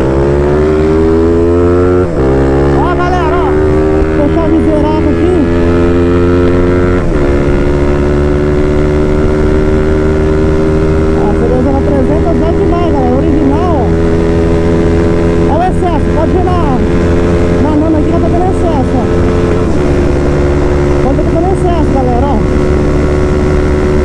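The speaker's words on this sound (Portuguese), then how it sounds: "Vou dar uma aceleradinha pra vocês aí, galera" A Honda CB 300 motorcycle engine with a blown engine idles loudly up close, then revs up in rising surges that hold and settle, a steady roar throughout.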